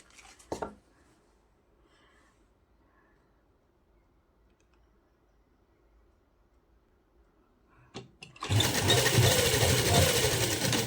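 A sewing machine stitches lace onto the edge of a plain fabric hem. After a long, nearly silent stretch with light handling, it bursts into a loud, steady, close whirring run near the end.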